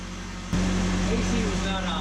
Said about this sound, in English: AC was not on, now it's on. The compressor is cycling.